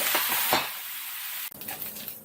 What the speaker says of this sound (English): So we got 4 Salisbury steaks cooking